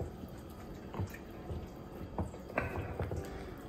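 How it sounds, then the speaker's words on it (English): Fermenting injera batter stirred with a ladle, faint wet sloshing and soft drips in a quiet kitchen, with a few irregular splashy strokes. "so I'm stirring it with a ladle."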